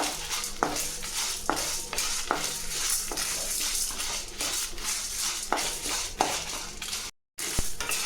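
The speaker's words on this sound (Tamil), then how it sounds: "ஸோ பருப்பும் வரப்பட்டுச்சு மிளகாயும் வரப்பட்டுச்சு" Lentils and dried red chillies roast in a pan, stirred with a spoon that scrapes and clinks against the metal in steady repeated strokes, close and fairly loud, with a soft dry rustle between the scrapes.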